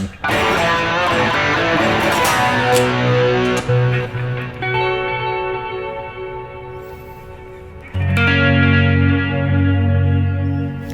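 Electric guitar chords ring out through a Fender Twin Reverb amp with its vibrato and reverb, shimmering, sustaining and decaying, then a new loud chord strikes near the end.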